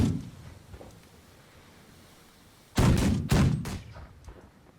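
Ship cannons fire in a naval battle in The Last Leviathan game, a few loud booming blasts in quick succession after a quiet stretch of low rumble.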